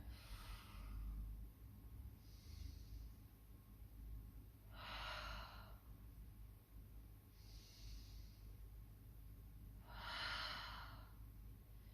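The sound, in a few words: breathing during a hamstring stretch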